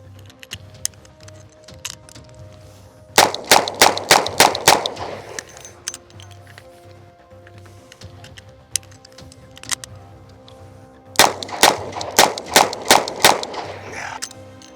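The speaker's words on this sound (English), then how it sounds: "I'm gonna show you how outclassed revolver is at fire rate and accuracy." A Colt Python revolver fired in two rapid strings of about six sharp, loud cracks each, separated by a few seconds of quiet, close and with no talk.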